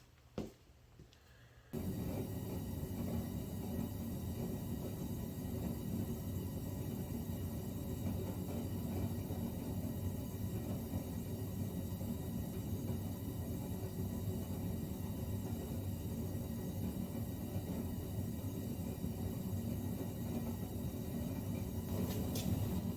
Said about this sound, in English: sorry about the noise. Got my heat going.